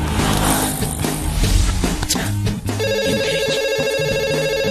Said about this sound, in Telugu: ఈ ఫోన్ కాడే చేస్తున్నట్టున్నాడు.